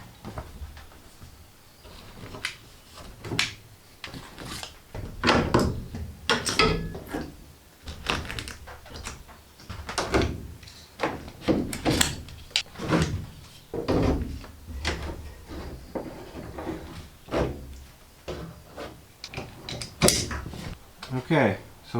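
Metal clamps on a glued panel in an Iveco Daily campervan build are loosened and removed, giving a steady run of close ratcheting clicks, knocks and clatters over about twenty seconds.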